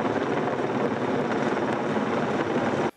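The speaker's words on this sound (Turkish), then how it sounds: "Helikopter sık sık hem ormanlık alanlarda hem de termik santral bölgesinde uçuyor." The world's largest firefighting helicopter flies over forest near Milas-Bodrum, Muğla, its rotor giving a loud, steady, churning roar that holds close and unbroken until it cuts off abruptly.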